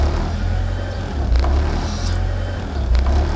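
A 1992 Honda Prelude with a swapped JDM H22A VTEC engine idles nearby with a steady low rumble, the revs gently rising and falling in a slow lope from about 1,000 to 1,200 RPM.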